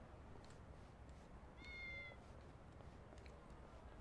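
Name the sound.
cat meowing in a video game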